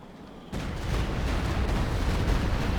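Mortar fire rumbles in a Company of Heroes 2 battle, a sudden loud blast followed by a sustained heavy roar of explosions close by.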